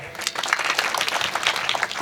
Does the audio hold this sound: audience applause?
yes